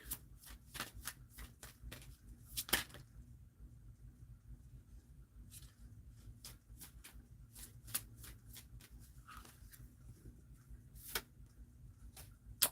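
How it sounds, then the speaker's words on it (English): A deck of cards is shuffled over and over, close by and quiet, with sharp riffling bursts and soft taps coming at an uneven rhythm against a low background hum. "I will sit here and shuffle like this for 5 minutes."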